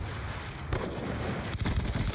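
Loud turret fire in the video game Call of Duty Black Ops 2, with heavy booming shots and a fresh burst of rapid gunfire near the end over a constant rumble.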